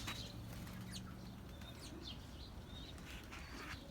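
Repeated soft whooshing wing flaps from pigeons taking off and fluttering, with faint chirps over a steady low background hum.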